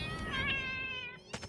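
A cat in the video game Satisfactory gives one long drawn-out meow that slides downward, up close, followed by a brief rustling burst at the end.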